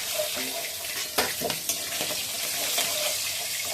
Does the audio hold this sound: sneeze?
no